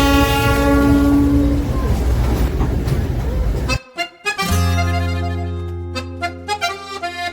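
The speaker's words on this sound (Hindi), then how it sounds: "यहाँ पर आपको विश्व धरोहर स्थल Darjeeling Himalayan railway toy train भी मिलेगी" The Darjeeling Himalayan Railway toy train sounds its horn in long sustained blasts, first amid rumbling running noise, then in clear repeated toots after a brief break, near and loud.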